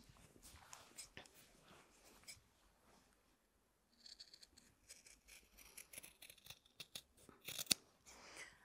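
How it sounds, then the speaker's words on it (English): Scissors snip through fabric along curves for a handmade clutch bag pieced from mini charm squares: quiet, intermittent cuts, a brief pause midway, then quicker snips ending in one sharper cut. "I'm just going to cut the curves using my scissors."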